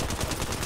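Sniper gunfire in a multiplayer shooter video game, heard as a loud, dense run of shots with several sharp cracks repeating roughly every tenth of a second through the short stretch, no one talking.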